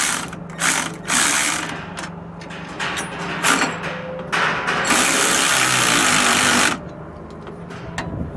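A ratchet wrench snugs down the bolts of a Roadmaster steering stabilizer on a 2004 Ford, giving close, loud clicking bursts in several runs, the longest lasting about two seconds, with no talking.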